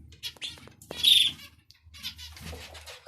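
Zebra finches kept in a homemade cage chirp and squawk in short, scattered bursts, one sharper call standing out among quieter tweets and faint rustling, fairly close with no talk.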